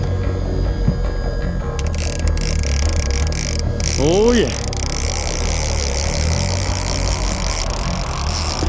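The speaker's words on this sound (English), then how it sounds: "Let me pull up the engine here." A fishing boat engine idles on the Columbia River during sturgeon fishing, a steady low droning hum under a brief remark from a man and a short rising whine.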